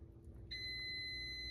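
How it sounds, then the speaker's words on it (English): A kitchen alarm starts after a quiet rumbling stretch and holds a steady electronic tone, loud and continuous, during the cooking of stuffed cabbage rolls. "that's my alarm"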